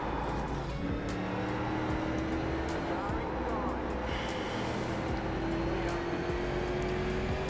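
Race car engine from the iRacing game, a Rookie Street Stock on a US track, droning steadily loud with a rising whine as the car slides loose out of control, under excited talk.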